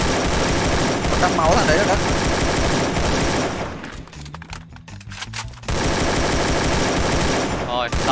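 Rapid automatic gunfire in the Free Fire video game, dense bursts of shots filling most of the clip with a brief lull in the middle, while players talk over the action.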